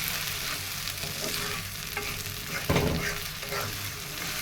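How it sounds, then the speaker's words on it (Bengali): Dried shutki fish fries in oil in a loud, steady sizzle heard close up, with a short burst of stirring and spatula scraping midway. "এই জন্য তেলে ভাজিয়ে দিতেছি"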